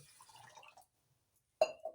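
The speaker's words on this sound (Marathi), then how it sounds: "आता धुतलेले तांदूळ आहेत, याच्यात मी आता हे पाणी ओतते." Water is poured into a bowl of washed rice, chana dal, urad dal and fenugreek seeds: soft faint trickles at first, a pause, then a brief sharp splash and gurgle, quiet and close.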